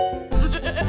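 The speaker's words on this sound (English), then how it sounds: "Sheep." A single sheep bleat from an animal-sounds sequence, short and loud, rising after a brief tonal lead-in and wavering to the end.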